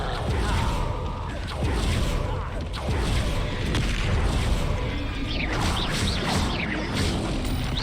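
Spell combat in the Hogwarts Legacy game, with Confringo fire blasts booming and whooshing over dense crashing effects and a constant loud mix of battle sounds.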